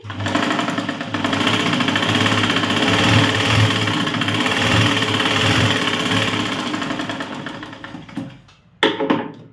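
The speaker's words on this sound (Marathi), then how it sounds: "त्यानंतर पुन्हा एक टीप मारायची ह्यावरती." A sewing machine runs steadily and close up while stitching a tuck on a blouse, giving a continuous rapid mechanical whir that stops near the end, followed by a brief clunk.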